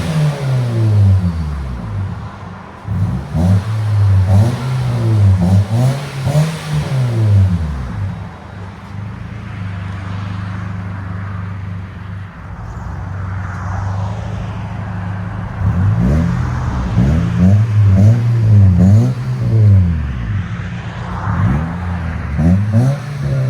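A 2012 Nissan Versa with a 1.8L engine and a Vibrant bottle resonator exhaust revving repeatedly, the engine note sweeping up and dropping back in several loud, close bursts with short idle stretches between.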